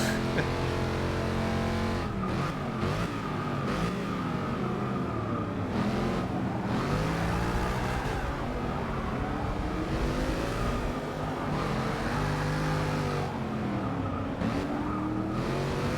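A race car in Forza Motorsport 6 revs hard and continuously, its engine pitch climbing and dropping through gear changes with brief tire squeal, loud and close throughout.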